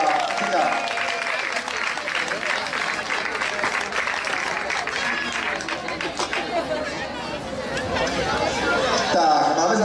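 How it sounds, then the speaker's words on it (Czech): Big applause and crowd chatter from a baseball audience at a Czech Extraliga game between Eagles Praha and Třebíč Nuclears, sustained dense clapping mixed with voices, swelling slightly near the end. "Tak, uděláme si tady takový prosím velký potlesk."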